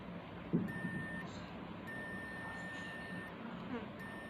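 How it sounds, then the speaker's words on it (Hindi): A multimeter on continuity mode sounds faint, steady electronic beeps in a few separate bursts as its probes touch a resistor, over quiet background hum. "बीप का आवाज़ होना चाहिए।"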